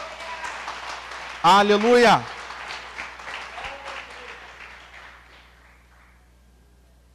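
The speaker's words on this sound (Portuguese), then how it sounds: "Você pode aplaudir ao Senhor com o seu melhor?" A church congregation claps and cheers for the Lord during a Portuguese sermon, a moderate bed of applause under a loud shouted exclamation from a man, then the clapping thins and fades away toward silence.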